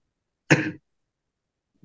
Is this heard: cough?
yes